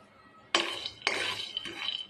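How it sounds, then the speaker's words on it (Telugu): Raw peanuts are tipped into a hot pan for roasting, making three quick, close clattering rattles, each fading briefly. No one speaks. "ఇప్పుడైతే మట్టుకు వేరుశెనగ గుళ్ళు దీంట్లో వేపుకుంటాను."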